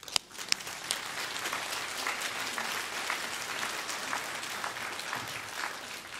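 Mourners at a funeral service for a blues musician clap steadily in a large hall, a soft, even patter of many hands heard from a distance with a couple of sharper claps near the start.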